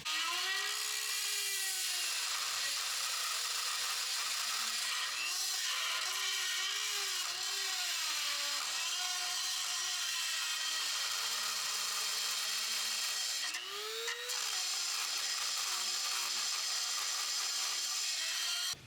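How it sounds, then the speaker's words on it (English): An angle grinder cuts holes in a car body during a widebody install, a continuous loud whine whose pitch dips and rises as the disc bites into the metal, close up with no talk. "we might just take the grinder and grind that out"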